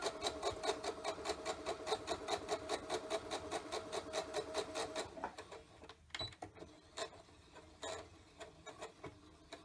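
A sewing machine stitches a half-inch seam along a dress strap, running in a fast, even, mechanical pulse for about five seconds before stopping, followed by a few faint handling clicks.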